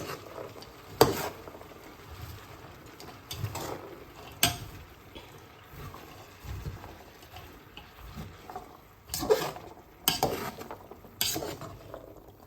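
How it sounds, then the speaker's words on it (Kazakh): Onion and zucchini frying in a pot are stirred with a utensil, giving scattered scraping and clinking knocks against the metal over a soft, quiet sizzle. "Осылай араластырып жібереміз."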